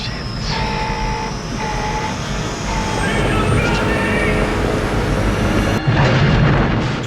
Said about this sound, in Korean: 전원이 꺼진 저장고가 폭발하면서 유령들이 쏟아져 나오게 되고